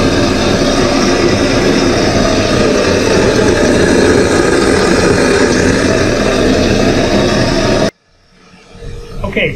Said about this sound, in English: You'll hear a little bit of steam coming through because there's a little bit left in the header